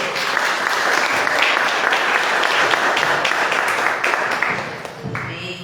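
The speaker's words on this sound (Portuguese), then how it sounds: "Querida, aplauda o Senhor." A church congregation claps together in praise, a loud, dense wash of applause that holds steady, then thins out near the end as a voice begins to come through.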